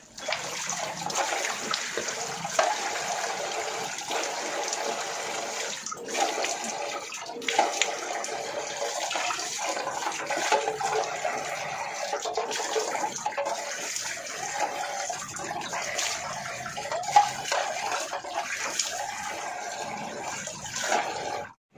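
Tap water runs steadily and continuously for about twenty seconds as face powder is washed off, a dense hiss of splashing water at moderate level with no talking.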